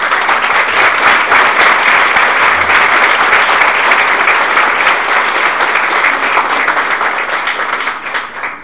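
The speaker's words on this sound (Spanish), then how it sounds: "¿podemos darle un aplauso in absentia?" Dense, loud audience applause at a book presentation, a sustained wash of many hands clapping that holds steady and then starts to fade near the end.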